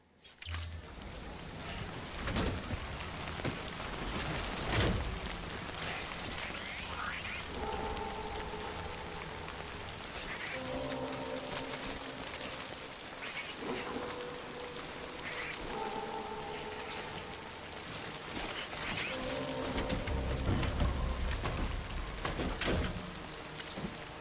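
Timefall rain pours down in the video game Death Stranding, a dense continuous downpour with scattered clatters and intermittent tonal game sounds layered over the steady wash of falling water.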